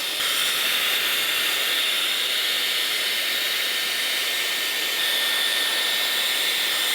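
A Dyson Airwrap with the Blade concentrator attachment blows air through hair, giving a steady, close, loud hissing whoosh that runs without a break, with a slight shift in tone partway through.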